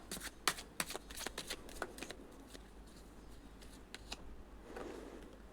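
Tarot cards being shuffled and drawn from the deck: quick, close riffling snaps in an uneven burst, then sparser soft slides and flicks of single cards being pulled, quiet and without talking.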